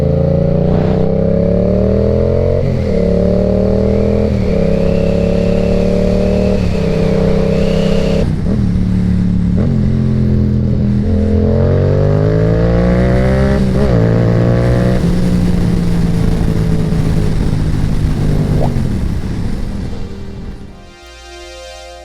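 Yamaha R7 supersport motorcycle engine revving hard through repeated gear changes, loud and close for about twenty seconds with rising and dropping harmonic pitch, cutting off near the end.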